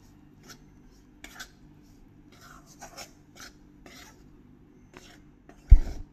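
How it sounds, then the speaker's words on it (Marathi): Finger millet flour being dry-roasted in a pan over medium heat gives soft, sporadic scraping and stirring rubs, quiet and close, ending with one louder clunk of the utensil against the pan. "मध्यम आचेवरती हे नाचणीचं पीठ आपल्याला छान खमंग भाजून घ्यायचं"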